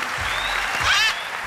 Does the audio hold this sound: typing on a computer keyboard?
no